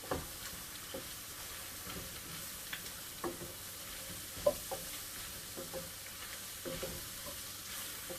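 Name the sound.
stirring flour into browning jambalaya in pan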